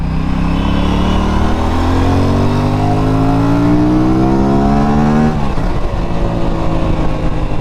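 An Aprilia RS 457 motorcycle accelerates hard up through its revs with a rising engine whine, shifts with a brief drop in pitch, then keeps pulling, loud and close, with heavy wind noise throughout.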